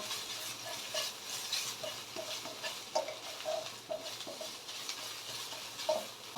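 Red curry paste stir-frying in a pan for a vegetarian tofu curry dish, a faint steady sizzle broken by soft scraping ticks of the spatula, quiet and close.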